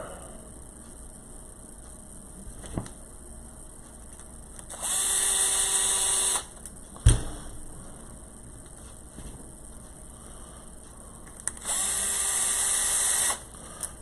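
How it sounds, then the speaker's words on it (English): A cordless screwdriver driving the differential housing screws on a B7 RC car, in two short whirring bursts of several seconds each, close and steady, with faint clicks and a sharp knock between them. "Don't use cordless screwdriver to tighten down your diff housing"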